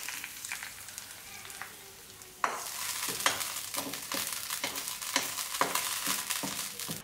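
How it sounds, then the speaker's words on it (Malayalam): Fried onions being stirred into a roasted-coconut (varutharacha) Kerala chicken curry in a pan with the flame off, giving a steady soft sizzle and a series of regular scraping stir strokes that grow louder midway, with no talking. "ഇനി നമുക്ക് ഈ ഉള്ളി ഈ ചിക്കൻ കറിയിലേക്ക് ചേർത്ത് കൊടുക്കാം."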